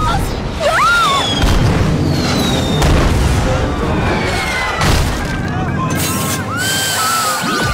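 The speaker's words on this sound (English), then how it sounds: "In mortal, life-threatening danger by incoming cannonballs!" Cartoon cannonballs from an animated spy series boom and crash around a ship, heavy rumbling blasts and splashes under loud, frantic voices and shouts.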